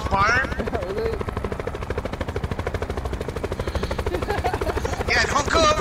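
Gunfire aimed at a helicopter in Call of Duty Black Ops 4, with a steady rotor thump running throughout under rapid shots and bursts of voice chat at the start and end.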